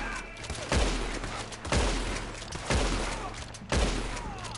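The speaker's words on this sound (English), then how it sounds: "Yeah, that was a headshot." Gunfire in the video game Red Dead Online, four loud booming shots spaced about a second apart, each trailing off into a reverberant tail.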